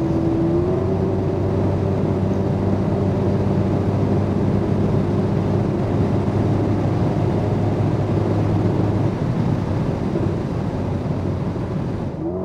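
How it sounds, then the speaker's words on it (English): Loud, steady wind roar fills the cabin of a Mercedes-AMG SL43 at top speed on the German Autobahn, a continuous broadband rush with a low engine drone beneath, unbroken for the whole stretch with no talking. "Wind noise is really loud,"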